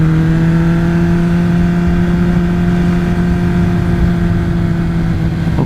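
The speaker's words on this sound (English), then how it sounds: "Hopefully you can hear that engine." An MV Agusta Brutale 1090RR motorcycle engine, fitted with an exhaust baffle, runs close by with a loud, steady droning note that holds even throughout, with no other sounds.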